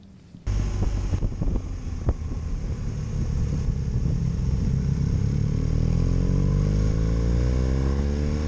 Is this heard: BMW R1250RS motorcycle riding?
yes